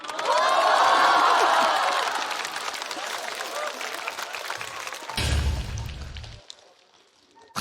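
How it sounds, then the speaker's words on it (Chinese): A stand-up comedy audience applauds and cheers loudly, a dense burst of clapping that swells early then fades, followed by a brief low rumble and quieter room noise. "34元，鼓掌！"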